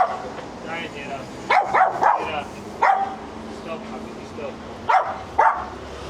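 A small dog on a street in Lebanon barks in short sharp yips in several close bursts, with a voice mixed in around them.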